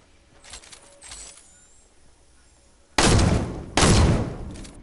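Gunfire from a video game lands in two loud, sharp bursts near the end, after quieter game-environment noise.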